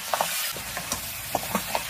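Pig trotters sizzling in oil with soy sauce in a pot at a rainy campsite, a steady fry hiss broken by several sharp stirring clinks and scrapes.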